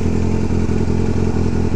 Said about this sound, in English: Ducati Scrambler.